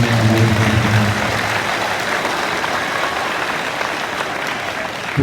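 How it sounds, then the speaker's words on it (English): An audience at a high school awards day ceremony breaks into sustained clapping that fills the hall, loud and even throughout, with a brief voice at the start. "Can we please give a round of applause for these academic achievement awards?"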